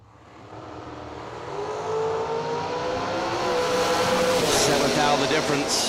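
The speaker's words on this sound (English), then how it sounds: "The Miller chassis dragster on the right side of the track." A Miller chassis dragster races down a drag strip at a bracket event, its engine building from a low rumble to a loud, sustained roar with rising whine as it accelerates away, and a voice speaks briefly under the noise.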